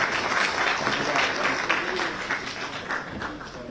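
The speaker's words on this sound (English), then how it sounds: "Big round of applause for" A large audience at a civil aviation summit applauds after a minister's speech with a steady, dense wash of clapping that holds throughout and fades slightly toward the end.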